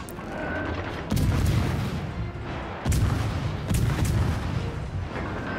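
Heavy naval gun salvos from the Soviet destroyer Leningrad in World of Warships: Legends, two loud booming bursts with rumbling decay, close and dense, over continuous battle noise.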